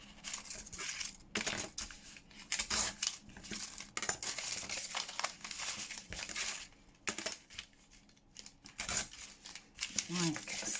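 Paper ripped by hand into strips while making book plate embellishments, giving several short tearing bursts between pauses, close and moderately loud.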